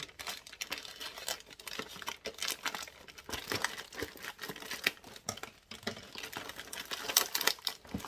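A Temu parcel is unpacked by hand, with continuous crinkling and crumpling of plastic packaging and rustling, close and fairly loud, with no talking.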